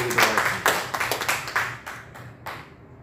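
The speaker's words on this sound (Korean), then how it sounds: "우리 하나님께 영광의 박수 올려드리도록 하겠습니다." A church congregation claps after a Wednesday worship service ends, a burst of overlapping hand claps that is loudest at first, then thins into scattered separate claps before stopping.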